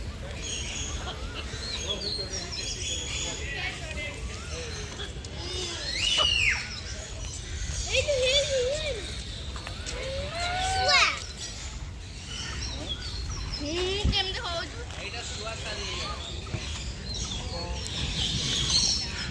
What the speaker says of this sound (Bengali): এখানে ম্যাকাও আছে এই যে।